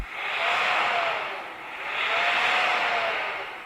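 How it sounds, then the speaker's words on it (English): Old diesel engine of a BMW X5 SUV revved hard, a loud, steady rushing roar that swells twice and fills the whole stretch without talk. "rev up that horrible diesel."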